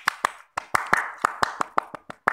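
Pramuka scout rhythmic clapping: about a dozen crisp, close hand claps in a quick patterned rhythm, with brief pauses between groups.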